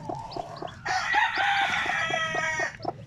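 Hens brooding newly hatched chicks make a loud run of clucking and drawn-out calls close by, with repeated short chick peeps around them and no talk.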